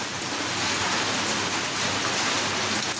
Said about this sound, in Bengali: আমাদের এখানে কিন্তু আর সকাল থেকেই খুব পরিমাণে বৃষ্টি হচ্ছে।